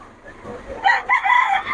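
A young gamecock stag crows at close range, a short hoarse cock-a-doodle-doo rising to a brief strained peak, with faint background murmur.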